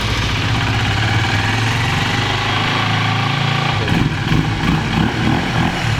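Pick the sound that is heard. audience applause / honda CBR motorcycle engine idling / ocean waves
honda CBR motorcycle engine idling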